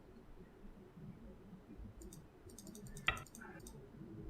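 Keyboard keys being pressed, including the right control key and the backspace, a brief cluster of faint light clicks and one sharper tap over quiet room noise.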